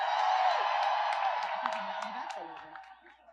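A crowd at a Chicago protest rally cheers and whoops loudly, a dense roar of many voices that gradually fades over a few seconds.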